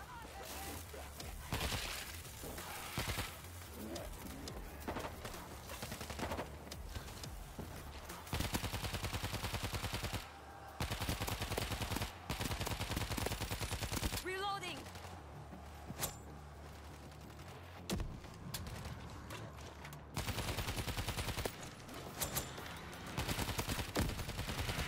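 Rapid automatic gunfire and bursts of shooting from the zombie shooter World War Z, loud and near, coming in dense volleys with brief pauses across the stretch, with voices talking over parts of it.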